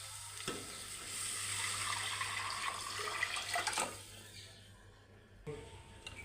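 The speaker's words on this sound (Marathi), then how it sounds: "आता आपण याच्यात तो मटणाचा रस्सा ओतून घ्या घ्याय ओतून घ्यायचा आहे" Mutton broth is poured into cooked masala in a pan, a steady splashing, hissing pour heard up close that tapers off, with a couple of soft clinks near the end.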